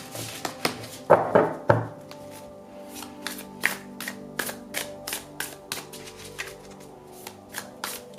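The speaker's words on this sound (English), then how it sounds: "I'm feeling a fresh shuffle here." Tarot cards being shuffled by hand during a love reading, a flurry of crisp riffling early on followed by a steady run of soft, close card taps and slaps, no talking.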